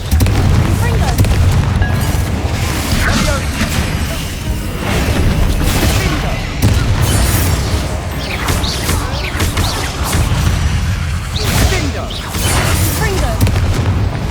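Repeated booming Confringo blasting-spell explosions from Hogwarts Legacy, loud and continuous over about fourteen seconds, with several heavy bursts layered over dense rumbling game combat noise and a voice casting spells.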